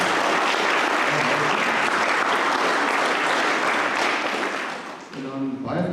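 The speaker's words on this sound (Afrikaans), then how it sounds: "kan ons hulle hartlike hande klap gee?" A church congregation applauds visitors at a morning service, loud sustained clapping from many hands that fades as a voice begins speaking at the end.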